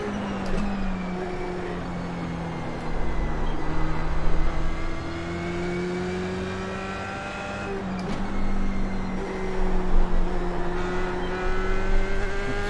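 Race car engine in the iRacing sim game, a loud, sustained drone whose pitch climbs and drops through gear changes, with short breaks for shifts, continuous and close.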